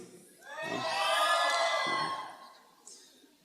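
A church audience shouting and cheering together in a single swelling roar of many voices that peaks and fades over a few seconds, with a lone voice or two around it.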